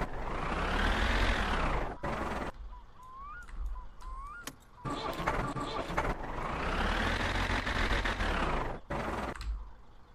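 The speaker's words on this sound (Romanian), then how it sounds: "Moare motorul." Car engine in the video game My Summer Car, a loud sustained drone that swells and sags and drops out abruptly twice, with brief honks and clatter between the engine runs.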